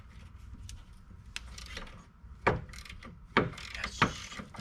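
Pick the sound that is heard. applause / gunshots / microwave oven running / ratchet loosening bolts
ratchet loosening bolts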